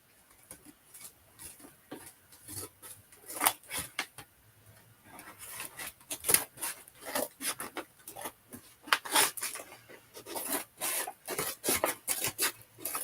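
Scissors cutting through material at a sewing table, a run of quick close snips and raspy rustles in uneven bursts, fairly faint, with no voices.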